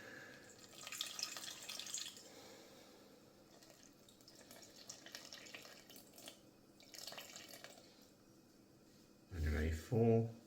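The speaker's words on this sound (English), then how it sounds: "And just the water, so it's 180 mil." About 180 millilitres of water running into a bowl for baguette dough, heard as a tap or pour sound mixed with a speaking voice, with a couple of louder bursts near the end.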